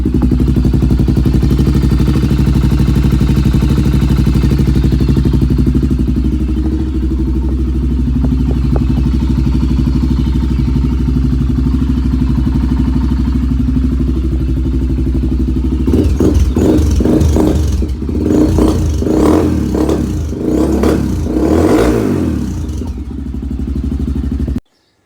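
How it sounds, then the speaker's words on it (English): A Honda 400EX TRX400X quad idles loudly with a steady, deep, thrumming engine note, then blips and rumbles unevenly for several seconds near the end before it stops abruptly. "Let's fire it up and make sure we're not leaking."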